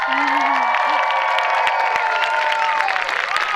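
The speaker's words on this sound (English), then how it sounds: "Gentlemen, one last round of applause." An audience at a community variety show gives a loud, sustained round of applause with cheering and whoops, while a voice sings or calls out over the crowd.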